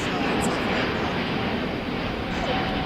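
An ITA Airways airliner in blue livery passes overhead near LAX, a steady broad engine roar that fills the air, loud and continuous throughout, with voices faintly underneath.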